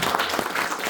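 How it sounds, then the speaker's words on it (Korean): A brief burst of dense, loud audience applause at a seminar lecture, a steady wash of many hands clapping together. "여러분 박수 한번 주십시오"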